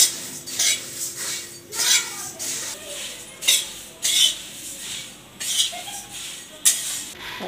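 Puffed rice (murmure) dry-roasting in a pan as a spoon scrapes and stirs it, giving a run of rustling, clattering strokes at a steady rhythm with soft crackle between them, close and fairly loud, with no talking.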